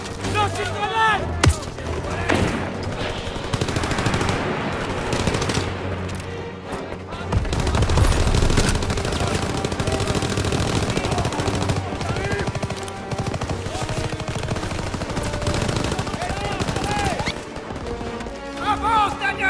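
Sustained machine gun fire rattles through a WWII video game battle in a German building with a stairway, dense bursts layered with explosions and shouting voices, loud and continuous throughout.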